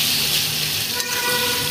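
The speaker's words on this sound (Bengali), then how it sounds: "আলুগুলো মশলার সাথে মিশিয়ে নিচ্ছি, নেড়ে চেড়ে নিচ্ছি কিছুক্ষণ" Potatoes being stirred and fried with spices in a pan for aloo dum give a steady, fairly loud sizzle that runs continuously throughout, with no voices.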